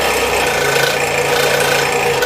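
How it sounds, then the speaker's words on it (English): A scroll saw cuts out a poplar spoon blank, giving a steady, close, continuous buzzing rasp of the blade through wood with no pauses and no talk. "So first I'm just going to cut the spoon out."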